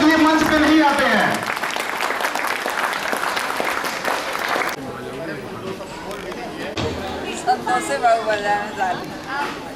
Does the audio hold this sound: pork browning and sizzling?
no